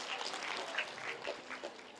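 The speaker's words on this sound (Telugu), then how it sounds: "క్లాప్స్ కొట్టుకోండి మనకి మనం కొడండి" An audience at a talk claps in a steady, close patter, with scattered voices mixed in.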